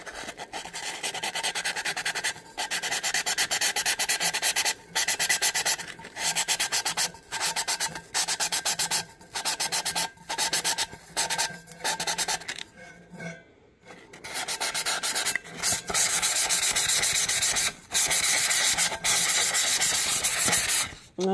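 A tumbler surface is sanded by hand before rhinestones are applied, giving close, raspy rubbing strokes in long runs broken by brief pauses.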